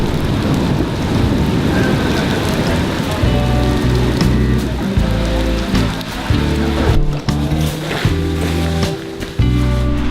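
Hail and heavy rain beat outdoors on surfaces in a dense, loud, crackling patter, with low rumbling thunder rolling underneath through the later part.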